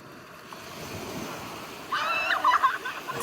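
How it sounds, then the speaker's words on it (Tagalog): Ocean surf at a beach, a steady wash of breaking waves with wind noise on the microphone, swelling louder with a splash near the end. "Kaya natin yung alon. Pinakamatakas na alon guys."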